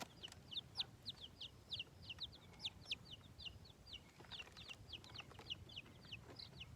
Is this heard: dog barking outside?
no